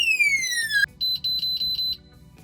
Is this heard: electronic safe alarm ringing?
yes